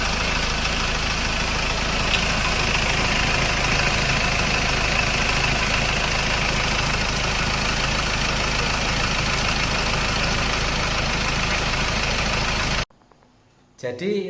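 A Ford Ranger engine, just reassembled after its timing chain cover was opened, idles loud and close with a steady rough rumble for about twelve seconds, then cuts off abruptly into near quiet.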